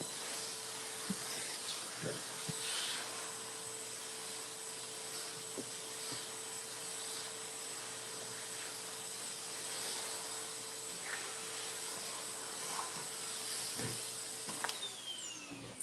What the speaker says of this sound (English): So now we're gonna vacuum. I have my Henry.